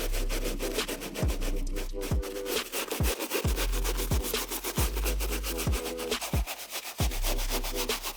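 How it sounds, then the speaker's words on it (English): Soft-bristled Jason Markk premium brush dry-scrubbing the uppers of a Yeezy 500 sneaker, a steady rhythmic back-and-forth rubbing of quick, even strokes, close and fairly loud throughout. "So you're going to want to dry brush the uppers of the shoe."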